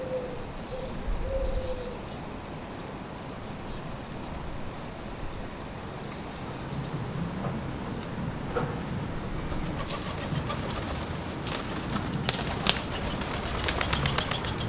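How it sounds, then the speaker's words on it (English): Several short bursts of wood pigeon wings flapping, with soft cooing and bird calls in a quiet outdoor setting. "R2-D2 watches the wood pigeons flapping around before he takes a drink"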